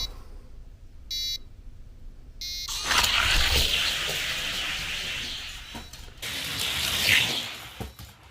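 A Ferrari F40 races down its lane after two short start beeps, a steady whirring rush that runs close for several seconds and swells again near the end, with no voices.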